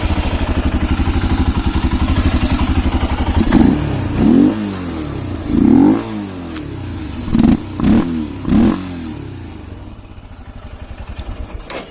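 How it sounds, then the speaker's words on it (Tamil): Motorcycle engine running with its air filter removed, idling with a steady pulsing beat, then blipped with several sharp throttle revs that rise and fall, loud and close. "இது ஏர் ஃபில்டர் போடாமல் வந்து பார்த்திங்கன்னா இக்னிஷன் ஸ்டார்ட் பண்ணி த்ராட்டில் பண்ணால் எப்படி சவுண்ட் வருதுன்னு பார்க்கலாம்."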